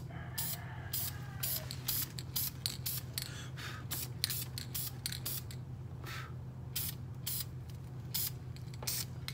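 High-heat spray paint hisses from an aerosol can onto a car's brake calipers in a rapid series of short, close bursts, with faint rattling and handling noises between them.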